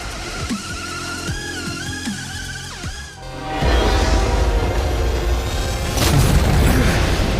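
Covering-fire explosions in the video game Honkai: Star Rail, a deep boom and rumbling blast sequence following whooshing sci-fi tones, loud and sustained with a second burst near the end.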